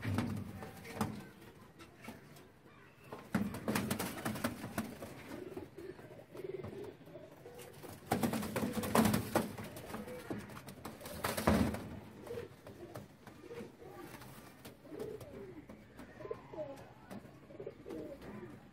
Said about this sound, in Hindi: ये एक हरे कबूतरों का पेयर है